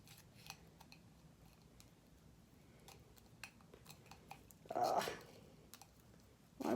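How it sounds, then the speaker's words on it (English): Quiet snips and small clicks of scissors trimming a thin polycarbonate lightsaber blade film, scattered and close, with one louder scraping cut near the end. "find the right scissors for this"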